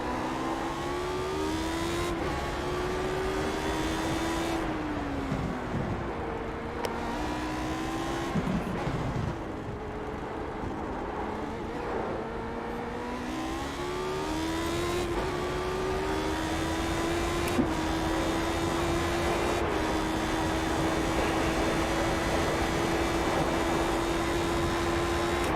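Lotus 79 race car engine in iRacing at Circuit Park Zandvoort on an out lap with cold tyres, a continuous revving engine note climbing and dropping through gear changes, steady and loud with no talk.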